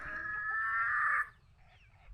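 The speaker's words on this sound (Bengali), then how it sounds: "তোমার তো অনেক মুরগি গো।" A chicken gives one drawn-out, fairly close cluck lasting about a second, then only faint background noise remains.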